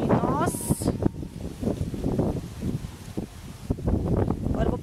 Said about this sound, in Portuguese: Olha o vento como tá aqui hoje. Ventando bastante.